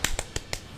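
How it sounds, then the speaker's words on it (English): Quick slaps to a person's own cheeks, four sharp crisp smacks in rapid succession, close and distinct, with no talking. "Slap of the cheeks."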